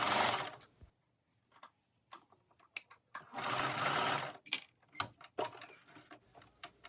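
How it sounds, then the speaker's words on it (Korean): A sewing machine stitches pin tucks on the front panel of a lace-embellished denim dress, running in quick stop-start bursts with longer sustained runs between brief ticking pauses. "앞판의 다른 쪽 면도 같은 방법으로 핀턱을 봉제합니다."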